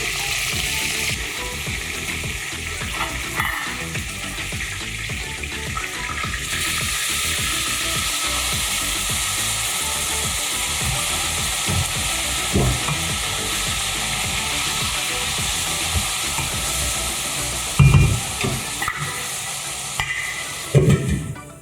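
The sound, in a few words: beef frying and being stirred in a pan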